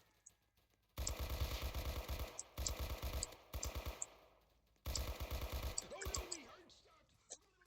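A buffed Uzi submachine gun fires in the game RMS in four rapid, close bursts of crisp rattling shots separated by short pauses, followed by softer clinks.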